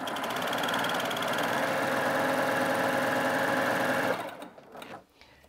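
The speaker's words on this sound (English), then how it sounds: "That will disengage the wipers, and then I can sew a standard cover stitch." A Baby Lock Primo coverstitch machine runs steadily for about four seconds sewing a standard cover stitch, a loud continuous mechanical whir that stops abruptly, followed by a few faint handling sounds.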